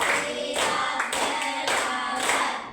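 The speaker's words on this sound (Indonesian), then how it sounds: "Tepuk 5." Pupils in a classroom clap their hands in unison to a counted pattern, five sharp group claps arriving in an even, quick rhythm, close and loud with nobody talking.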